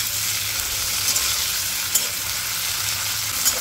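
Potatoes frying in oil in a pan for sabudana khichdi, a close, continuous sizzle with occasional scrapes and clinks of stirring.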